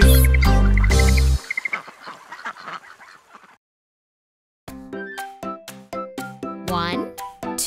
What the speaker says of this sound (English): Both ducks said, quack, quack, quack, quack.